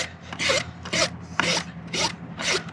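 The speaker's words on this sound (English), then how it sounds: "I'm trying to have the rasp contact. That's why a wide rasp is better" Wide rasp filing a horse hoof in five rhythmic, evenly spaced rough strokes, each a close, harsh scraping burst over a faint steady background hum.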